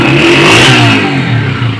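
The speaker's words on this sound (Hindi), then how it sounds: "हल्का सा एक्सलेटर देके चेक करेंगे" A Honda CG 125 motorcycle engine revved with a light twist of the throttle, close and loud, rising to a peak and easing back to idle in one smooth blip.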